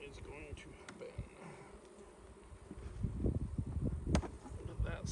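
Honeybees buzz during an inspection of a struggling beehive, a steady low insect hum that grows louder and denser in the second half, with faint sounds of movement around the hive.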